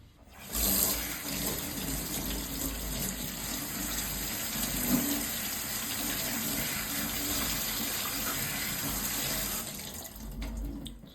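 Tap water gushes steadily into a sink as cucumbers are washed, starting abruptly, running at an even, fairly loud level for about ten seconds, then cutting off with no talk.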